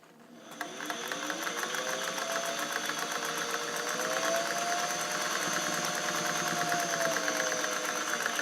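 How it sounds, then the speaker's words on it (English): A 1950s Singer 404 Slant-O-Matic all-metal sewing machine with a rotary hook stitching steadily, giving a continuous close mechanical whir with a fast, even rhythm that holds at a constant speed throughout. "when I hear this, I know it's a Slant-O-Matic and it's a Singer from the 50s"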